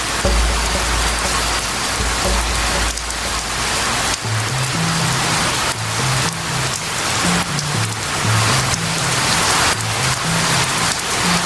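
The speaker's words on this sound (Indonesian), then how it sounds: "hujan masih deras mengguyur Kampung Pengantin" Heavy rain pours steadily over a village at dusk, a dense, loud, unbroken hiss of drops on surfaces with a low rumble underneath, continuous and close throughout.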